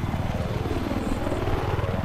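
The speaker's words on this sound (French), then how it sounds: "l'hélico est vraiment beaucoup plus dur à tourner" Viper attack helicopter in Battlefield 4, a steady, loud rotor and engine drone with rhythmic blade chop, close and continuous throughout with no talk.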